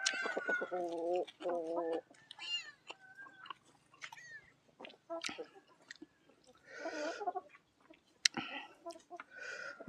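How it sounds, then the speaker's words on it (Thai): Free-roaming chickens near a parked vehicle cluck in short, separate bursts among quieter gaps, fairly close, with a few sharper calls and a cat-like meow mixed in, no talking. "ไก่เห็นคนเนี่ย มันก็มาเฝ้ารถครับไก่เนาะ"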